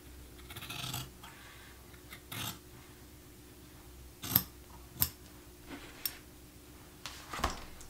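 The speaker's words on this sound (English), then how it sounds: "we're gonna trim our seam" Scissors trimming the seam of a quilt binding, a few separate crisp snips spread out over quiet pauses, close and fairly soft.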